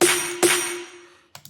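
A simple electronic snare sample for a future bass track hits twice with a bright, sharp crack and a ringing tone that decays, followed by two faint short ticks.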